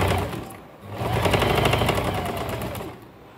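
Sewing machine running close and steady as it stitches kurti fabric along a line, a fast even chatter that slows briefly near the start and eases off at the end.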